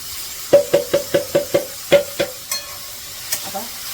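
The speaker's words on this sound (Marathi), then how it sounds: "कांदा बऱ्यापैकी परतलाय" Onion sautéing in a pan, with a spatula knocking against the pan in a quick run of about eight ringing taps, then a few sparser clinks over a faint sizzle.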